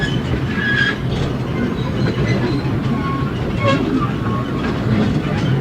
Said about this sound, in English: It's a creaky and squeaky train.